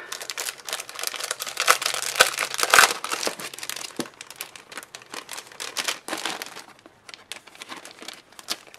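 Crinkling paper pulled from a mystery art supply pack: dense, close crackling and rustling in continuous bursts that thin out toward the end, with no talking.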